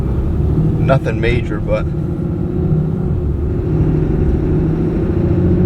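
A 2022 Ram 3500 Laramie pickup truck pulls away from a stop sign, a low rumbling engine swell heard from inside the cab, with someone talking briefly over it.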